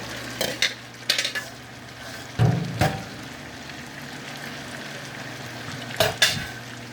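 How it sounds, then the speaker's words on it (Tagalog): A spoon stirs sisig in a pan in scattered scraping, clattering strokes over a low steady sizzle, with a few louder clanks against the metal. "Halo-haloin na natin hanggang siya ay maluto"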